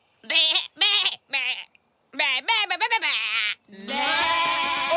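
A cartoon character's voice imitates sheep, giving several short, wavering bleats in quick bursts, then a longer, drawn-out baa at the end, loud and close.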